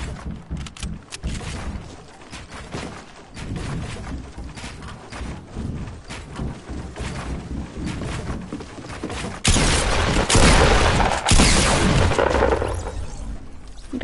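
Hunting rifle shots ring out in a console shooter, a dense run of sharp cracks and booms over fourteen seconds, growing heavier and louder toward the end.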